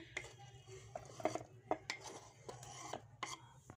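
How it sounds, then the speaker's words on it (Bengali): Cut potatoes tipped into a bowl for an aloo kabli street-style snack, giving a handful of close, soft clattering knocks and dish clinks spread over a few seconds, quiet overall with no talking. "সবগুলো আলু কেটে নিয়েছি, একটা বোলে তুলে নিচ্ছি।"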